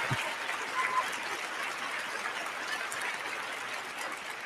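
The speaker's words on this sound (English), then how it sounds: "a great applause for episode number 2 of The Legacy of Queens" Steady applause from an audience at a New York event, a soft, even wash of clapping heard from a distance, continuing without a break and with no talking over it.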